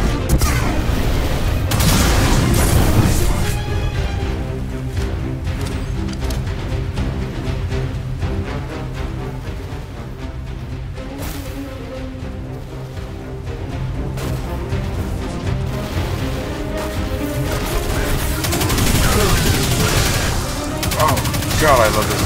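Dense weapon fire in the sci-fi shooter Destiny 2 runs unbroken, with rapid shots layered over booms and battle noise close and loud throughout.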